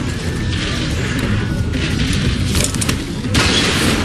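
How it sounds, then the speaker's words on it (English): Gunfire in The Walking Dead video game: loud booming shots and crashing bursts over a dense, continuous roar of chaotic action, with no clear gaps between the blasts. "Fire the fucking gun!"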